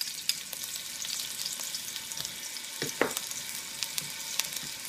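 Ginger and garlic frying in oil for a low carb steak stir fry, a quiet, airy sizzle with scattered small pops and a couple of utensil taps, fairly faint and close.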